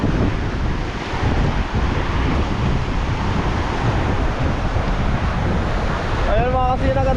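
Strong sea waves and gusting wind during Typhoon Kristine roar in a steady, loud wash of noise, with wind buffeting the microphone throughout and a brief voice near the end.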